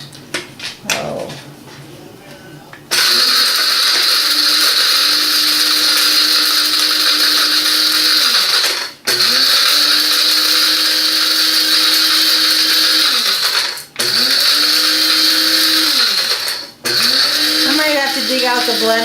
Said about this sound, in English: Dig out the blender.